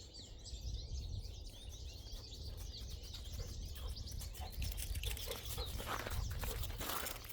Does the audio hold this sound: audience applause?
no